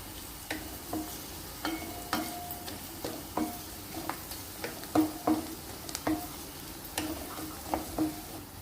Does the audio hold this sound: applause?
no